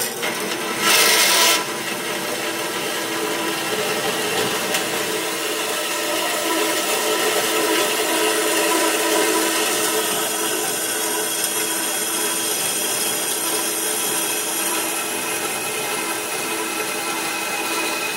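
Horizontal band saw cutting through stock in a workshop during aircraft building, a steady loud rasping drone holding for the whole span, with a brief sharper burst near the start and no talk.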